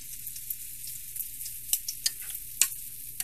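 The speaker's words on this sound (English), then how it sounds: "So while those carrots are softening up a little bit" Carrots softening in a stir-fry pan, giving a steady close sizzle with scattered small pops and crackles, quiet and alone with no talking.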